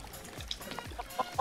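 A few short, quiet clucks from a chicken in a video game, scattered over a low background with faint digital-sounding tones.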